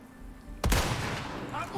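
A single sharp gunshot with a booming, echoing tail rings out in Resident Evil 4 Remake, played on Hardcore difficulty. It sits over a low, quiet game ambience.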